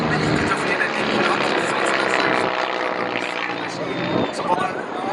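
A Spitfire fighter plane flying at the Telemark Airshow 2025 produces a loud, steady engine roar that fills the whole stretch, with a voice audible underneath.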